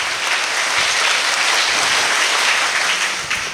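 An audience at a college investiture ceremony in Udupi claps steadily and densely, a sustained wash of applause that tapers slightly at the end.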